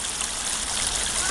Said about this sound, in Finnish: Semmonen pieni puro menee rinnettä pitkin.